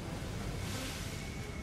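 Stormy open sea in Assassin's Creed 3, a dense steady roar of crashing waves and gusting wind, loud and continuous with no voices.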